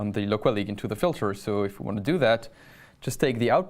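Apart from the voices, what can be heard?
No distinct noise like a dog, phone or traffic.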